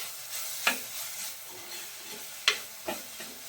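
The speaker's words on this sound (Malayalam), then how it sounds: "ഉണക്കക്കൊഞ്ചും കൂടി ഇട്ട് കൊടുത്തിട്ട് നമുക്കിത് നന്നായിട്ടൊന്ന് വഴറ്റി കൊടുക്കാം" Dried shrimp sautéing with tomatoes in a pan, a soft steady sizzle with a few distinct scraping stirs of a spoon, close and fairly quiet, no voices.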